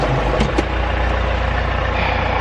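A tractor engine runs steadily inside a high tunnel greenhouse, with a continuous low, throbbing idle and brief mechanical clunks near the start, loud and close throughout.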